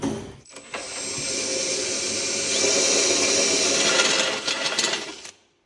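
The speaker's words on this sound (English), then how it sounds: "let's drill a hole for the oil feeding line into our oil pan" A power drill whines steadily for several seconds, its pitch shifting slightly as it bites into the metal of a car's oil pan, then stops abruptly.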